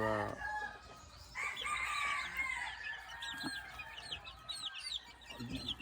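Sick young chicks peep in a series of thin, rising chirps, fairly faint and close, over soft rustling and low background noise.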